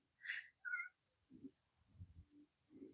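A pet cat named Miss Kitty gives two short meows in the background, faint and distant, followed by soft low murmuring and scattered small noises.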